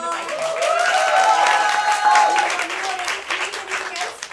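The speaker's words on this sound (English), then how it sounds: "another round of Including applause" Theatre audience at an improv comedy show applauding, with a dense, steady burst of clapping that fades slightly toward the end, with voices mixed in.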